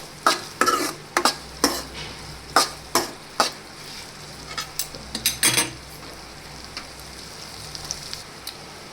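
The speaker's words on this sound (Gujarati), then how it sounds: "ભીંડાને આપણે તેલમાં થોડી વાર માટે એમને જ ચડવા દેવા" Okra cooks in oil in a pan while a spoon strikes and scrapes it in about a dozen sharp, close stirring clacks over a soft, steady sizzle, the strokes thinning out toward the end.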